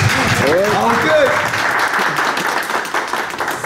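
Wedding guests at a Turkish civil marriage ceremony break into steady applause right after the vows, with a few excited voices calling out over the clapping, which stays loud before easing slightly toward the end.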